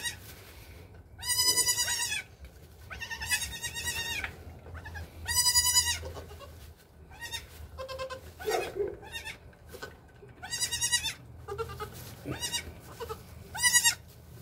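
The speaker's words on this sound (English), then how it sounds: "Our first goat has triplets." Newborn Nigerian dwarf goat triplets on a farm give repeated high, quavering bleats in short bursts, some overlapping, close by with quiet gaps between calls.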